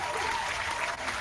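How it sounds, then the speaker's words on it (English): A round of applause during an online memorial gathering, a short burst of steady clapping lasting just over a second with no speech over it. "Round of applause."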